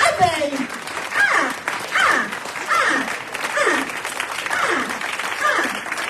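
An audience at a Transformations gathering in Columbus, Ohio applauds steadily for several seconds, the clapping sitting under a loud, animated voice addressing the crowd.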